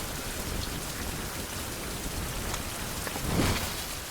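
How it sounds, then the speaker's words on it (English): Steady rain falls in the survival video game Survival: Fountain of Youth, a continuous dense patter with a brief swell of rumbling near the end, with no talk over it. "So I'm going to try to stay in the rain."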